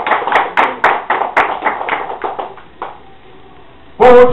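Clapping from a small church congregation, with a series of distinct, fairly rhythmic claps that taper off over about three seconds, then a brief quiet gap before a louder burst of other sound at the end.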